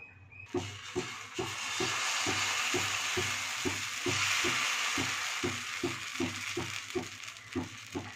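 Dosa batter mixed with chana dal is stirred in a bowl, giving a steady run of close, rhythmic scraping and sloshing strokes, about two per second, over a hissing wash of background noise.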